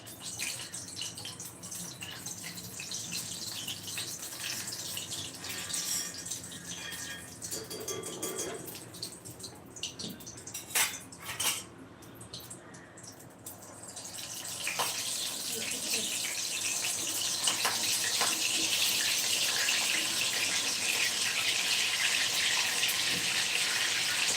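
Methi sabudana pakodas are dropped into hot oil in a pan, and a loud, steady frying sizzle swells and holds, close by, after a quieter stretch with a voice and kitchen clatter.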